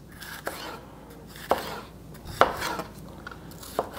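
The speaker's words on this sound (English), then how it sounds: "Let's go ahead and cut these in strips or julienne slices." A knife cuts a seeded bell pepper into julienne strips on a cutting board, giving sharp, separate chopping knocks at an irregular pace against quiet kitchen background.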